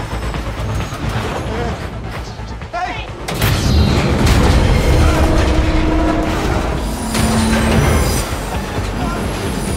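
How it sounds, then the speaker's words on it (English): Heavy rumbling of rail cars on track as a train car uncouples in a film scene, with metallic clanks and squeals, a deep jolt midway, and voices talking over the noise. "The train just uncoupled."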